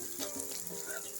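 Raw banana pieces fry in a pan with spice powder just added, giving a steady close sizzle with light crackle throughout, no voices.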